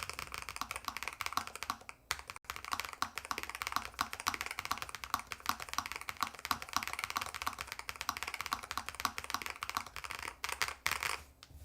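Steady typing on a Lofree Flow 2 keyboard, a fast run of soft, close keystrokes lasting several seconds with brief pauses, heard alone with no voices.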